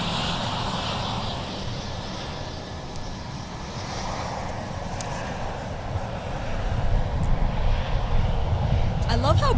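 Southwest Airlines jet airliner on flight 897 to Chicago Midway, a steady, loud engine roar at a busy airport that swells toward the end.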